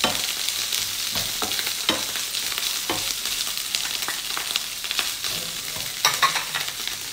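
Onions and mushrooms sauté in a pan, with a continuous close sizzle and repeated scraping strokes of stirring throughout.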